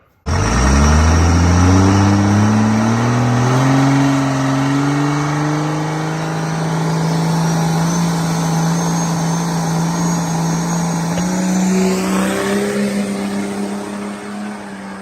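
A drag race car launches down the strip at Beech Bend, its engine roaring loud and close, pitch climbing steadily through a long pull with a shift near the end, no voices.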